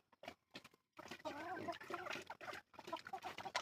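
Chickens cluck and murmur nearby in a backyard, soft irregular clucks in short bursts with brief pauses, fairly quiet.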